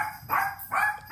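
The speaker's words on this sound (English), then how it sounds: "Dogs are barking, not sure why." Dogs barking in the background indoors, three short, moderately faint barks evenly spaced in quick succession.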